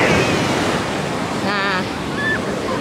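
Continuous roar of sea waves washing on a beach at Phan Thiet, Vietnam, with wind buffeting the microphone and a faint whistling tone briefly rising over the surf.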